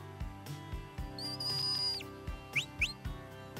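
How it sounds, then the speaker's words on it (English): A shepherd's walk-on whistle to a Border Collie sheepdog: a long steady high note held for about a second, falling at the end, then two short rising blips, over faint outdoor background noise. "That's a walk-on whistle."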